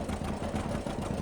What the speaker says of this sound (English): this is the reason I kept this old tractor